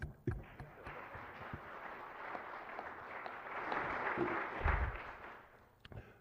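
Broad, steady clapping from a city council meeting audience fills the room for several seconds, swelling slightly before fading out.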